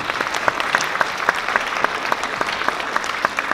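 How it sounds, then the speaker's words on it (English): Applause from an audience at a school Christmas concert, a steady patter of many hands with sharper individual claps standing out, fairly close and continuous throughout. "Let's give it a warm round of applause"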